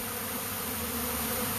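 A massive honeybee swarm buzzes in a dense, continuous drone, close and steady with no pauses.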